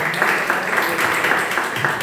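Applause at a family law commission event in a hall, dense steady clapping from a crowd, loud and close, running evenly throughout with no pauses.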